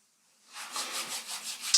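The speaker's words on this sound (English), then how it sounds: "rubbing the hands together" Palms rubbed briskly together to build warmth, a dry swishing friction that starts after a short silence and pulses in steady back-and-forth strokes, close and fairly quiet, with no talking.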